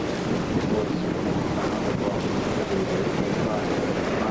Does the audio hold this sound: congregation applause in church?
no